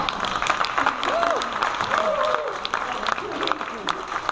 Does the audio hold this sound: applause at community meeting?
yes